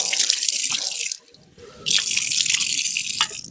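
Tap water runs in a steady splashing stream while someone washes their face, breaking off briefly in the middle before the flow resumes, with a few drips and splashes heard near the end.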